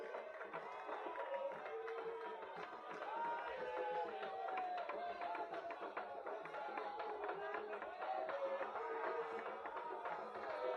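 Crowd at a Kinshasa inauguration ceremony applauding the governor, steady dense clapping and cheering throughout with a loud, even level, voices mixed in the crowd noise.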